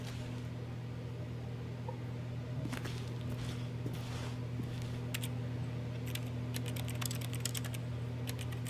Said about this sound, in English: It sounds like I'm typing at the keyboard.